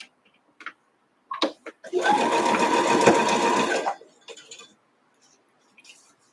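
A sewing machine fitted with a quarter-inch foot stitches a quilt block in one steady burst of rapid mechanical whirring lasting about two seconds, preceded and followed by soft clicks and handling taps at close range.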